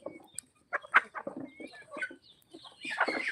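Free-range country chickens clucking nearby in a cow shed, several short overlapping clucks and squawks in uneven bursts, no talk.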